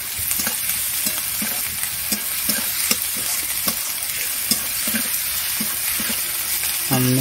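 Ginger and garlic paste fries loudly in a pan, with a constant bright sizzle and regular stirring scrapes close by, with no talking.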